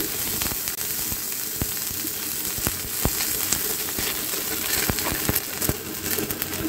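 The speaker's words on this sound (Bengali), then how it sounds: "তো এটা এখন শুরুতে আর কি পেঁয়াজ মরিচ দিলাম, নেড়ে নেব।" Onion and chili fry in a pan with a loud, continuous sizzle, sharp crackles and pops scattered throughout as the pieces are stirred, with no talking.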